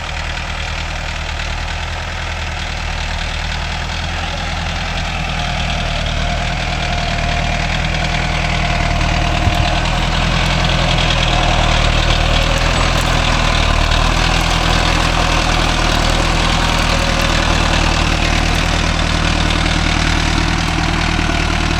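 A Mahindra Novo 605 S tractor pulls a five-point cultivator through field soil and struggles with heavy wheel slippage, its engine droning loud and steady with a deep knocking rumble throughout and no voices.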